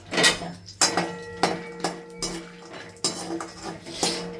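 Cashews and almonds being roasted in a pan for gundar pak, sharp metallic clinks and knocks of a spoon against the pan at irregular intervals, close and fairly loud, with only a faint background hiss and no talking.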